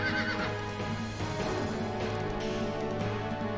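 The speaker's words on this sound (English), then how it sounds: "The nearby bandits quickly spurred their horses." Horses in the video game Suikogaiden whinny loudly with long, wavering cries, some hoof clip-clop under them and no speech.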